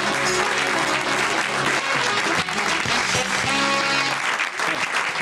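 Enthusiastic audience applause fills the space, dense clapping that swells and continues for several seconds, with a few voices faintly mixed in.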